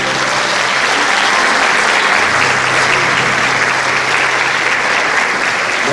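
Loud, sustained applause from a concert audience welcoming a performer at a tribute show, a dense, even roar of clapping hands throughout with a faint low hum beneath.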